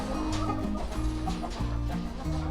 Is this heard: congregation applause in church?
no